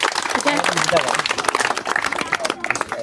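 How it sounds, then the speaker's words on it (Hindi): An audience claps to welcome students at a felicitation ceremony for matriculation exam toppers, with dense applause mixed with crowd murmur and voices talking over it. "ताली से स्वागत करें सर"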